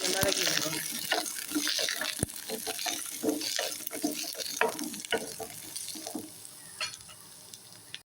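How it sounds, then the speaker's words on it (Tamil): Whole garlic cloves and onions sizzle and fry in oil in a pan for garlic kuzhambu, with a steady hiss and scattered stirring scrapes and clinks, loud and close throughout. "கொஞ்சம் வதக்கி விடுவோம்."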